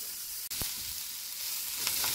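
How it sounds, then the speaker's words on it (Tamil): Steady, hissing sizzle of onions sautéing in oil in a pan, with a few faint clicks and pops and no voices. "இப்போ தேவையான அளவுக்கு கடாயில் எண்ணெயை விட்டுட்டு நறுக்கி வச்ச ஆனியனை வதக்க வேண்டியது"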